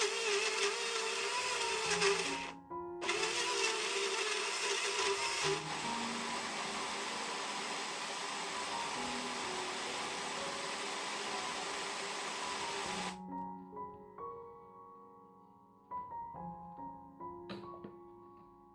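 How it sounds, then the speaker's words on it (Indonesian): A kitchen blender grinds garlic, shallots and red chilies for a spice paste, a continuous whirring motor that pauses briefly, runs on for several seconds, then winds down and stops. "Kemudian blender bumbu sampai benar-benar halus."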